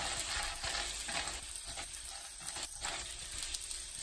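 Peanuts toast in a hot pan for a peanut-sauce chicken dish, giving a faint, steady crackling sizzle broken by soft stirring scrapes and light rattling, with no voices.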